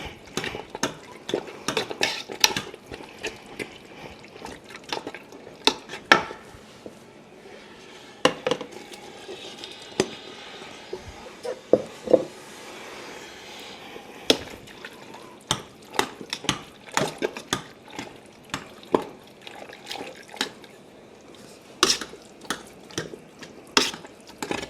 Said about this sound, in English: So I'm just gonna put some in and then stir it and repeat.